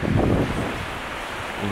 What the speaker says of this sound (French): il y a beaucoup de vent qui vient vers de ce bord là